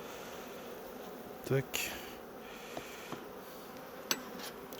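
Honey bees buzz steadily around a swarm as it is being handled, a faint continuous hum broken by a few soft clicks and knocks.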